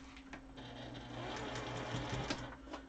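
A sewing machine stitches fabric face masks in a fast, steady mechanical whir with a fine rapid ticking. It is close but quiet and runs without speech.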